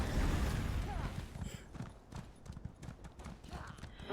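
Horse hooves clip-clop in the Elder Scrolls Online video game, a rapid run of light, even steps over game ambience that is loud at first and then settles.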